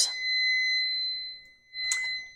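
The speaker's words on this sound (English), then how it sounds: "that is my timer for the sprinkler, because I always have a timer going off during my videos" A kitchen timer alarm goes off for a lawn sprinkler, sounding as a loud, steady high-pitched electronic beep that holds for over a second, pauses briefly, then beeps again, with no talking.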